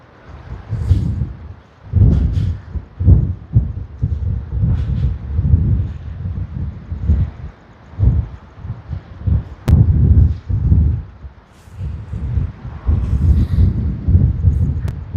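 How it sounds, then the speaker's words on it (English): Low, gusty wind buffeting the microphone outdoors at Sydney Airport in uneven bursts, rumbling loudly throughout with brief lulls between gusts. "It's a bit windy over here"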